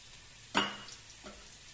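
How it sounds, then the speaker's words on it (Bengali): Chandramukhi potatoes frying in hot oil in a pan for a rohu fish curry, one sharp crackling splash then a softer second spatter, over a quiet low background hiss, close and without talk. "আলুটা আমার ভাজা হয়ে যাচ্ছে।"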